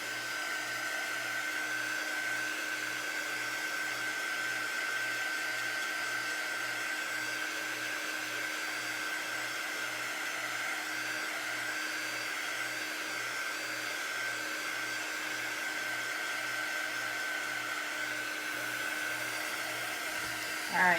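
A hair dryer blows steadily on chalk paste spread over a stencil, a continuous loud whirring hum with a faint pulsing undertone that stops abruptly at the very end.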